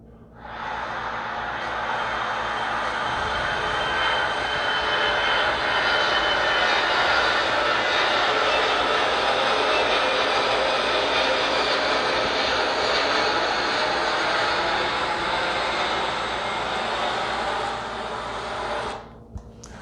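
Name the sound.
jet engine noise of a Boeing 747-400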